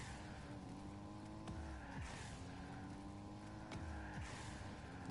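Cars in a video game pulling repeated handbrake turns, a steady engine drone punctuated by several short tire squeals and skids at a regular rhythm, fairly quiet overall.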